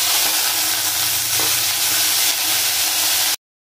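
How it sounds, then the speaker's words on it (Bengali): Potatoes frying in hot oil seasoned with salt and turmeric give a steady, close, dense sizzle that runs unbroken for most of the stretch, then cuts out abruptly near the end. "লবণ হলুদ দিয়ে আমি আলুগুলো ভেজে নেব"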